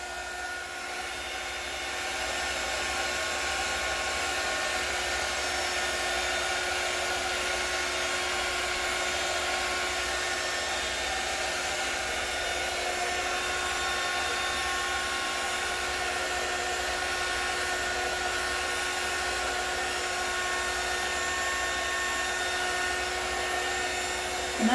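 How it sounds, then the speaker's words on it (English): A heat wand runs nonstop over acrylic paint cells in a balloon-kiss reflection swipe pour, a steady close-up blowing hiss like a hair dryer that holds level for the whole stretch with no talking. "Let's try the heat wand and see what this baby will bring up."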